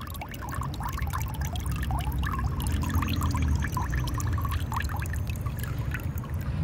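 Water keeps running and pouring steadily at a house where mushrooms are grown, a continuous close trickle and splash with no talk over it.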